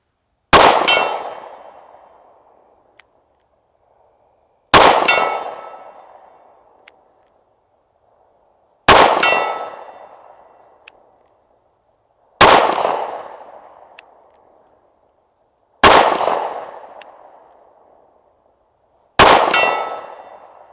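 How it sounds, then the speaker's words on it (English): Six pistol rounds from a Smith & Wesson M&P Shield Performance Center strike a steel gong about 60 yards away, each a sharp crack followed by a loud ringing clang that decays over a few seconds, evenly spaced around four seconds apart. "I'm going to take some pot shots at the gong here from 60 yards"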